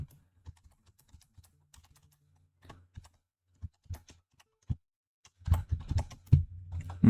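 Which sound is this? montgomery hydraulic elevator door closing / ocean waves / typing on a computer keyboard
typing on a computer keyboard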